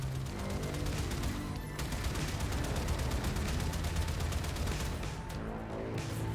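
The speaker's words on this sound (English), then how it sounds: "Launch torpedoes." Space torpedoes launch during ship combat in the Warframe video game, forming a dense, unbroken barrage of rapid booming bursts and rattling blasts that stays loud the whole time, with no voices.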